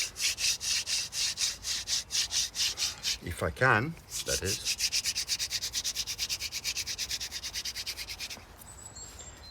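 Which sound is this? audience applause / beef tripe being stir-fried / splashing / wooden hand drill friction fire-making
wooden hand drill friction fire-making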